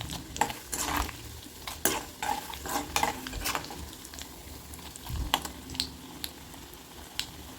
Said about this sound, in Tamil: நல்லா பொரிஞ்சதுக்கப்புறம் நம்ம பூண்டு கருவேப்பிலை சேர்த்துக்கணும். நல்லெண்ணெய் சேர்த்ததுனால பொங்கிக்கிட்டே தான் வரும்